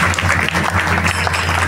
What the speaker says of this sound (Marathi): जर टाळ्या वाजवा यांच्यासाठी